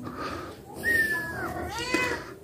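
A mother cat carrying her kittens back to a box meows close by, one drawn-out rising-and-falling call followed by a second wavering meow, with no voices over it.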